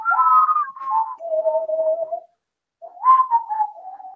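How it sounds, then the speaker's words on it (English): A person whistles a show's theme tune solo, with clear melodic phrases that slide between notes, a brief pause, then a second shorter phrase, close and prominent. "Who Could Whistle the Mod Maker Showcase theme"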